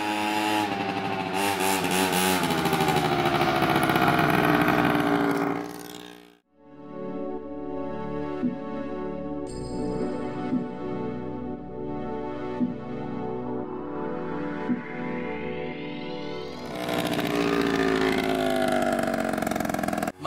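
A motor scooter runs near and loud, first with a buzzy revving engine, then a steady tonal whine that climbs in pitch as it speeds up and comes back, with no talking.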